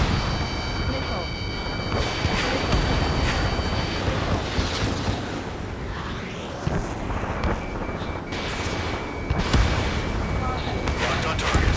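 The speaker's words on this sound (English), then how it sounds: "Missile." Missile launches in the Ace Combat 7: Skies Unknown jet combat game, loud rushing whooshes over a constant roaring engine and wind bed, with high steady lock-on tones early and again near the end, and radio voices in places.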